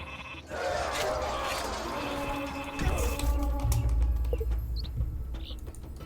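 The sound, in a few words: sheep bleating in the video game Northgard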